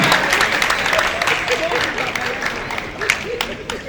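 An audience at a Nigerian surveyors' association luncheon claps in a brief, moderately loud burst, with voices mixed in.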